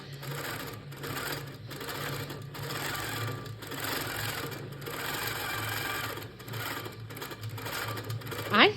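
A Handi Quilter Pro Stitcher computerized quilting machine runs steadily along the bottom edge of a quilt, a rapid rhythmic stitching chatter with a low hum beneath it, close and fairly quiet, ending in a brief whirring rise.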